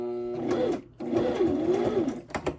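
A domestic sewing machine runs steadily, stitching straight down the middle of a paper-craft embellishment clip, with a steady mechanical hum that briefly pauses and then resumes, close by.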